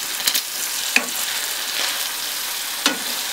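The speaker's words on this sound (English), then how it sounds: "I did not put butter or oil in this because bacon is fatty, so I will just let this cook" Bacon frying in a pan with no added butter or oil, a steady close sizzle and crackle with a few sharper pops and stirring clicks, no talking.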